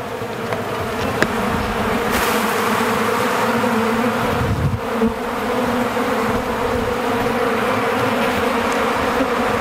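Honey bees swarm around an open hive box of drawn comb, their dense, steady buzzing loud and close throughout with no break.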